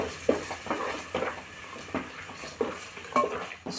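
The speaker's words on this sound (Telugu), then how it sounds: "పచ్చి వాసన పోయేదాకా మసాలాను వేగనిద్దామండి" Masala frying in a pan at close range during a Bhogi festival home cooking session, with soft sizzling and several scraping stirs of a spoon against the pan, with no talk.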